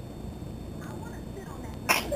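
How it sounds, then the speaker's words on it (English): A baby's short, sharp sneeze bursts out near the end after a quiet stretch of faint background noise. "Did you sneeze?"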